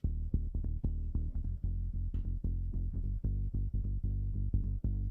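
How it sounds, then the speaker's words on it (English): Chopped, stretched bass loop with a thick, droning low tone, cut by frequent clicky edits and stutters in an uneven rhythm, no voices. "I chopped and cut it up and stretched it in time, and it sounds like this."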